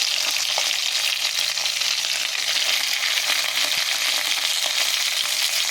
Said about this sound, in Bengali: মাছটাকে হালকা একটু ভাজতে দেব